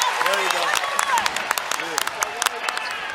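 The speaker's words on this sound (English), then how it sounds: "Mom and Dad applaud." Scattered crowd applause and clapping at a women's college basketball game, modest and brief, with a commentator talking over it throughout.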